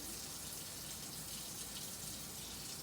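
Water is measured into a cup for an enchilada casserole, running from a tap as a steady, even rushing flow that lasts unbroken and sits faint in the background.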